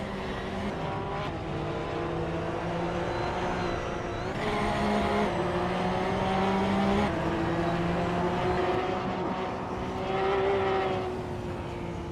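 A 2010 Porsche 911 GT3 Cup racing car in a racing video game drones loudly and steadily, its engine pitch rising and falling through gear changes with brief tire noise, close and continuous, without talk.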